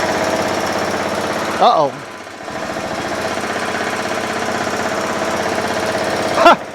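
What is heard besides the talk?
John Deere L100 lawn tractor engine idling and surging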